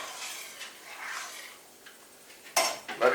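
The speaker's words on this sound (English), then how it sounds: "give it a stir" Blackberry and plum jam stirred in a pot on the stove, with metal utensil scrapes and clinks against the pot, quiet at first and then a few sharper knocks near the end.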